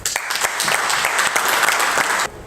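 Applause and cheering fill the hall at an extraordinary meeting of the Gabonese mayors' association, a dense, loud burst of clapping that holds steady before stopping abruptly near the end.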